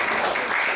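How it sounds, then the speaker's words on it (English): Temple congregation at a Sunday ISKCON gathering applauding, a brief dense burst of steady clapping heard alone without voices. "let's give a round of applause for Ujjeshwari Mataji"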